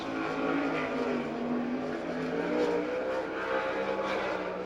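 Sprint car on its first qualifying lap at a dirt oval speedway in Abbottstown, Pennsylvania, engine roaring continuously at high revs with a slowly shifting pitch, loud and steady throughout.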